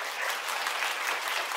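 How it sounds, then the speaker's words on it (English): A hall audience applauds to welcome a guest at a yoga award ceremony, brief even clapping at moderate distance with no talking. "let us join in welcoming these distinguished personality with a profound round of applause."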